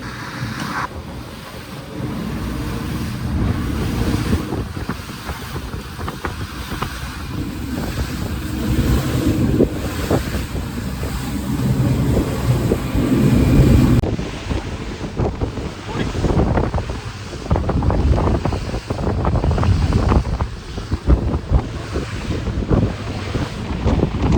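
Rough sea waves and gusting wind during a boat ride off Dubai, with a constant rushing roar of water and wind buffeting the microphone throughout, and a voice faintly talking in the background.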